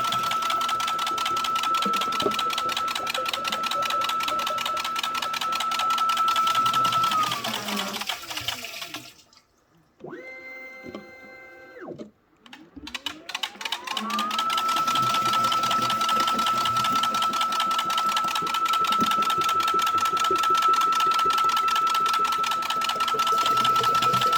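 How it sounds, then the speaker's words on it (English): A tabletop filling machine fills 20 oz bottles with a steady mechanical whir and a constant high whine. Partway through it pauses briefly for a few clinking, rattling sounds, then the running noise resumes, loud and close. "I'm going to go ahead and just keep emptying out these 4 as the machine's running"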